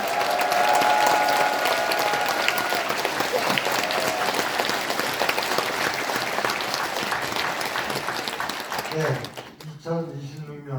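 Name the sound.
audience applause welcoming the mayor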